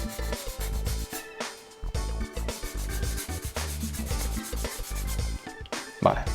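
Slot car guide blade on a Nissan Skyline Group 5 model being sanded to remove material at its ends, with steady close rubbing strokes running continuously and no one speaking.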